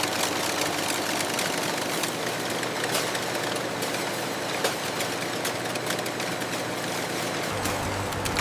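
High-speed industrial sewing machines in a textile factory hum as a dense, steady mechanical drone with faint rapid ticking throughout, loud and unbroken.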